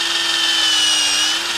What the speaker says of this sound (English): So I'm going to drill right through